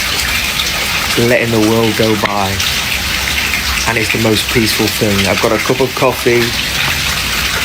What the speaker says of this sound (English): I'm listening to the rain.